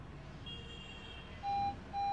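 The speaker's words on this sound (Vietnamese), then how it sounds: "Đó, tiếng tít tít." A 2020 Honda CR-V sounds two short electronic beeps as its automatic electronic parking brake setting engages, the second beep starting just after the first, steady and clear over a faint low cabin hum.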